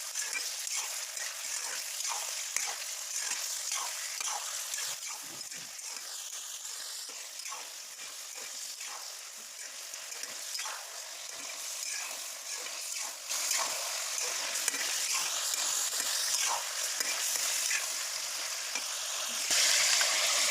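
Mutton pieces frying in hot oil in a karahi for Lahori mutton karahi, a steady, close hiss and crackle that holds for the whole stretch and grows slightly louder near the end.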